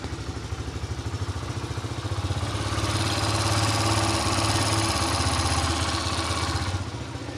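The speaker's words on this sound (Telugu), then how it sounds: "దీనికి స్టార్ట్ చేస్తారు చూడండి ఫ్రెండ్స్ సౌండ్గానే కొంచెం అయితే డిఫరెంట్గా పీస్ఫుల్గా ఉందండి" A Bajaj 125cc CNG-and-petrol motorcycle idles close by with an even, pulsing putter that swells slightly louder midway before settling back, with no talk over it.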